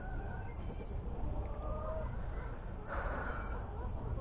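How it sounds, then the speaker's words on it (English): Chickens being let out of their coop on a bright sunny morning cluck softly and intermittently in the distance, faint under outdoor ambience with a brief louder flurry near the end. "come up to let the chickens out again this morning."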